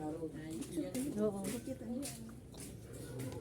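A bird coos nearby in soft, repeated low calls while several people talk over it outdoors.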